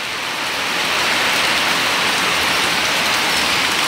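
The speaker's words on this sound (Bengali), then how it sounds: "দেখো মুসুলধারে বৃষ্টি হচ্ছে, আর বৃষ্টির আওয়াজ শোনো।" Heavy torrential rain pours down at a village home, a loud, dense, unbroken hiss of water that holds steady from start to finish with no voices.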